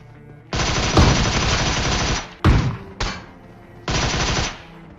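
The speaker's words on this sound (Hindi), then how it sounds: "अब खैर यहाँ पे गन फाइट होनी थी और उनके हाथ लग जाती है गन।" Gunfire in a PUBG Mobile gunfight: loud, close bursts of automatic fire lasting over a second each, separated by short gaps and a couple of single sharp shots, with no talking.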